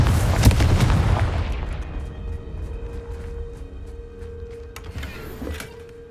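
A Confringo fire-blast spell in Hogwarts Legacy lands with a loud boom that decays over a couple of seconds, leaving a thin electric hum and small crackles behind.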